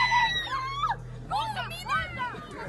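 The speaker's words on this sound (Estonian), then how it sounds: "Miks sa sõbrad karjuvad?" A group of friends screaming and shrieking in high, wavering voices, loud and close, with several bursts in a row and excited chatter around them.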